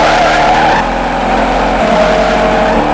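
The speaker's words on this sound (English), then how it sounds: "Watch me do a burnout." A car spins its tires in a burnout, a loud, continuous engine roar with a screeching squeal running through the whole stretch, close and steady, no talk over it.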